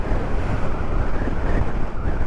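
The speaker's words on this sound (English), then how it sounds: "This is windy." Strong wind roars across the microphone as a motorcycle climbs Mt Washington, a loud, continuous, low buffeting rush with no break.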